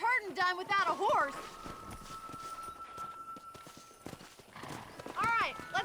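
Horse hooves clip-clop steadily on a ranch in Red Dead Redemption, joined by loud whinnies at the start and end, with a sustained tone and game ambience underneath.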